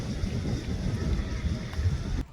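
Outdoor wind rumbles and buffets steadily across the microphone as a low, continuous roar that stops abruptly at the end, with no clear talk over it.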